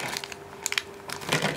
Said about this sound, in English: So, open up this bag, there's a little bit of tape there, and get him out, little ghost.